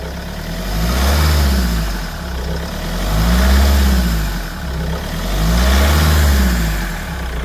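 A 2014 Mahindra XUV500 W8 engine revs up and eases off three times in a slow, even rhythm, loud and close, with no talking.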